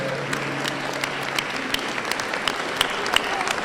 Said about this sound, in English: Give yourselves a hand for being here.